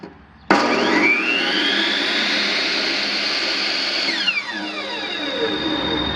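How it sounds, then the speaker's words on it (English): A Hitachi C15FB 15-inch miter saw spins up with a sudden loud whine and runs steadily. After about four seconds the brake engages and the pitch drops sharply as the blade slows. Nothing else is heard alongside it. "when I stop the saw, the brake, when it activates, the power pushes down"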